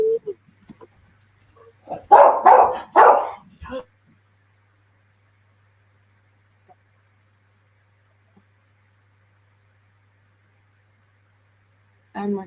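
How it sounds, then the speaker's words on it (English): Dogs bark in a short cluster of loud, close barks and yips early on, followed by long quiet, with one more bark at the very end. "Dogs are under control."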